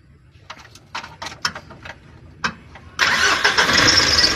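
Mitsubishi 4N14 diesel engine, just reassembled after timing chain work, cranks and fires into a loud steady run after about three seconds of quiet clicks and shuffling; close and dominant once running.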